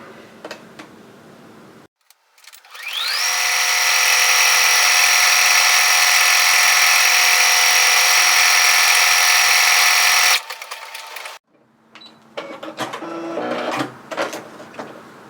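A sewing machine stitches a hoodie seam in one long, loud, steady run of about eight seconds, with fabric rustling and handling noises before and after.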